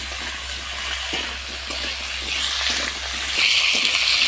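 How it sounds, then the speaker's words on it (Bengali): Vegetables with two dried red chillies being stir-fried in a pan for a kohlrabi chorchori, a steady close hiss and sizzle with faint scraping, swelling louder toward the end. "সবজিটা ভালো করে দিয়ে আমি কষে নিচ্ছি"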